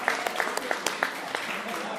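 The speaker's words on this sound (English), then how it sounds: "I love that applause." Scattered applause from an audience at an arts and culture month launch, fairly close, with a few loud individual claps standing out and a voice over it.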